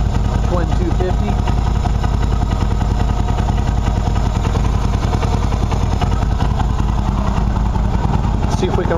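A Qlink QBK 250 twin-cylinder adventure motorcycle engine runs after sitting, a steady loud idle with a continuous rhythmic clatter close by, no break throughout.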